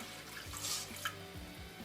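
Two cups of water poured into a pot of sugar for gulab jamun syrup, a steady near trickling splash lasting a couple of seconds, with faint low kitchen sounds beneath and no voices.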